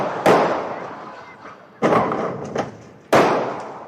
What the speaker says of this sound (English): You hear more gunshots, shots directed at the white Jeep.